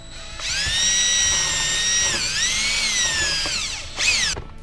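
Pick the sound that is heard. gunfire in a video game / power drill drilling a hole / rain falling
power drill drilling a hole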